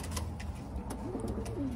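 A grouse-legged racing homer pigeon coos softly in its loft, a faint, low, rolling call against a steady background hum, with no voices.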